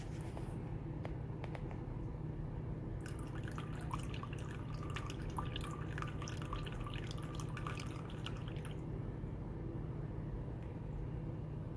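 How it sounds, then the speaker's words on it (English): Water pours from a mini celadon teapot, a thin trickling and dripping stream heard faintly over a constant low background hum. "I'm going to test how it pours for the first time."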